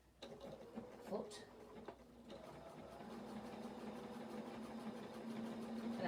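A sewing machine runs a triple stitch along denim for a skirt, a steady mechanical whir that builds after a few brief starts and grows slightly louder toward the end, close by and without talk.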